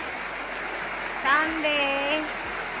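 Heavy rain pours in a steady, dense hiss throughout, while a voice briefly speaks over it near the middle.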